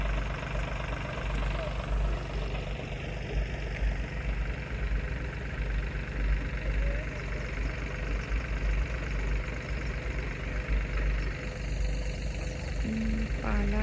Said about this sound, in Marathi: काही तर झालं वाटतं ट्रॅक्टरला.